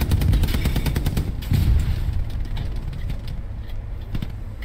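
Rapid bursts of gunfire in the World War II shooter Hell Let Loose, loud and dense with repeated cracks and a rumbling low-end roar, fading somewhat toward the end.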